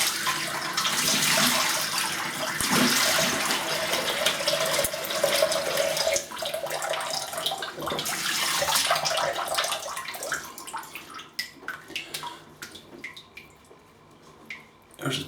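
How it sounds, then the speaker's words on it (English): Tap water running into a sink as a face is rinsed after shaving, a steady close splashing stream that breaks into scattered drips and splashes toward the end. "Let me have a rinse."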